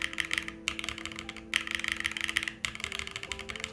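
Fast typing on the arrow keys of a Neo80 keyboard with an O-ring build. Dense, close clicking comes in bursts with two brief pauses, and the keystrokes ring slightly.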